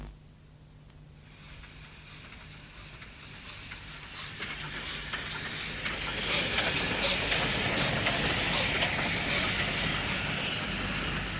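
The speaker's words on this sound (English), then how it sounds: "A train from Moat Lane Junction, which was near Caersws on the Cambrian line from Shrewsbury to Aberystwyth, arrives at Talyllyn Junction on its way to Brecon." A British Railways train from Moat Lane Junction pulls into Talyllyn Junction on its way to Brecon, its rumble and hiss swelling from faint to loud as it draws near and holds close.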